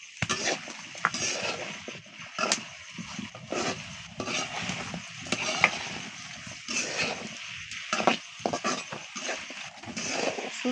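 Greens, potato and beans being sautéed in a pan for a dried-fish and bean dish, giving a steady low sizzle with scattered scraping and stirring clatter throughout.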